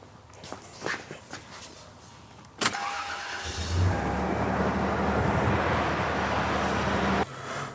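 A car engine cranks and catches with a sharp onset, then settles into a steady, loud idle; some faint thuds and shuffling come before it starts.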